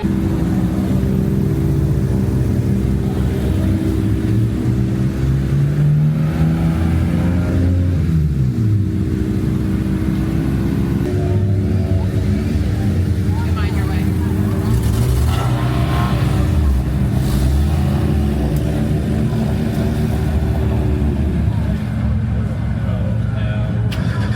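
Race cars roar off at the start of a ChampCar endurance race at NCM Motorsports Park in the rain, a dense wall of engine drone and rising revs that runs throughout with voices talking over it.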